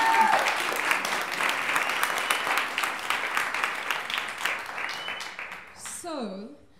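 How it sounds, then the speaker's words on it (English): Audience applause at a reconciliation awards event, a full round of clapping that gradually thins and fades, followed by a short burst of feedback or microphone noise near the end. "Another round of applause for them,"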